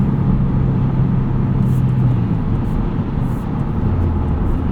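Cabin drone of a 2024 Subaru WRX TR cruising on the highway at about 2,500 RPM, a steady loud low engine hum with road and wind rumble throughout, no voices.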